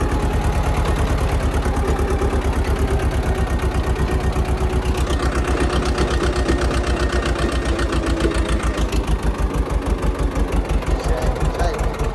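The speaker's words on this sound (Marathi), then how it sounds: "लोडवर येऊ राहिला रे ट्रॅक्टर." A tractor engine in Maharashtra labours under load while driving a rotavator through very wet, muddy field soil, giving a loud, steady, rapidly pulsing diesel chug throughout with a shift in tone partway, close to the listener, with voices talking over it.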